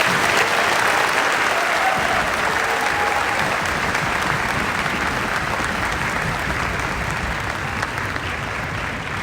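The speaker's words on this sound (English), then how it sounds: "please join us in giving these fine soldiers a round of applause" Steady, dense applause from a large audience at an infantry brigade graduation ceremony honoring newly trained soldiers, sustained and even at full volume throughout with no voices over it.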